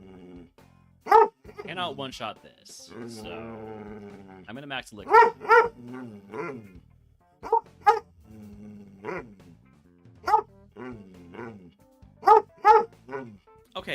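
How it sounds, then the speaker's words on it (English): A dog barks in loud, sharp bursts, sometimes in quick pairs, with a few growly yips between, while someone talks through a Pokémon game run. "Sorry about the barking."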